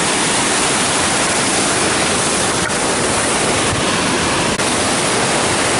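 A waterfall on the Wonderland Trail at Mount Rainier roars in a steady, dense, broadband rush that stays loud and unbroken from start to finish, with no voices over it.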